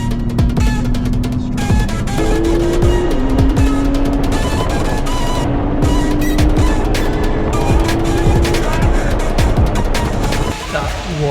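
Supercar from Premier Supercars driving fast in Dubai, engine revving hard through gear changes with rising and falling whine, loud and close throughout.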